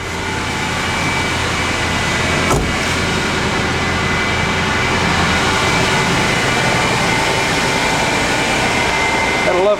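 A car engine runs smoothly and steadily close by, an even mechanical hum with a faint whine, with a brief click near the start and no talk.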